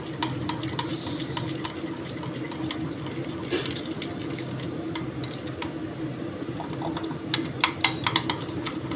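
A mixture for mango fruit chaat is beaten steadily until fluffy, a fast continuous whirring with light clinks against the bowl, close and even throughout.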